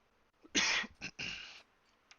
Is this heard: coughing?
yes